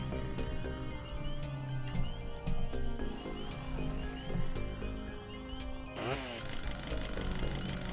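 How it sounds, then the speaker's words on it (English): Chainsaw revving and tearing in a DOOM mod game on the Slaughterhouse 3D map, a buzzing motor sustained throughout amid game effects, with a sharp sweeping burst near the end. "Yeah, chainsaw works."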